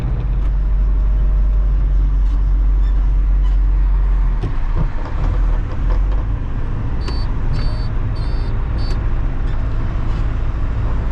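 A basket lift truck drives in city traffic, moving a little slower than the cars around it. A steady, heavy low engine and road rumble runs throughout, close and constant, with the faint sound of passing traffic.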